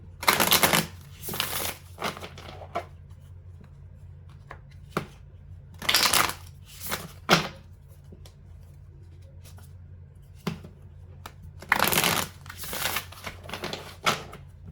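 Oracle cards being shuffled in irregular bursts of crisp riffling and slapping, loud and close, with quiet pauses between handfuls and no talking.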